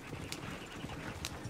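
Horse hooves clip-clop in Red Dead Redemption 2, a few soft, irregular steps at moderate distance over quiet background ambience.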